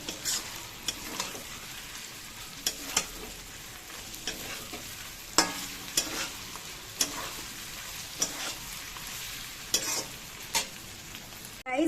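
Chowmein is stir-fried in a pan, a soft continuous sizzle with repeated sharp scrapes and clacks of the spatula tossing the noodles.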